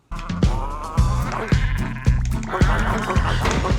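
Sheep in the video game Disobedient Sheep bleat loudly and repeatedly, overlapping cries pulsing about every half second, close and continuous.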